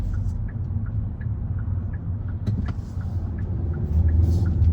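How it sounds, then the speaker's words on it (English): A 2021 Kia K5 GT-Line in sport mode drives along, heard from inside the cabin as a steady low engine and road rumble that swells slightly near the end, with faint ticking clicks over it. "So immediately in sport, this throttle response is significantly stronger"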